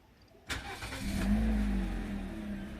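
Half a second into a quiet car cabin, a 2007 Toyota Fielder's engine cranks and catches, then settles into a low, steady idle rumble.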